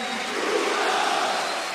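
A football stadium crowd at a PSG versus Bordeaux match gives lukewarm applause for Lucas as he is substituted off, a steady, diffuse wash of clapping and crowd noise with no clear break.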